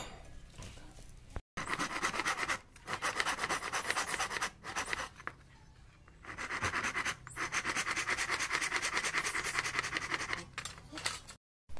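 A wooden wedge for a hand plane is cut by hand in repeated rasping, rubbing strokes, in long bursts broken by short pauses. Someone speaks Hindi in places.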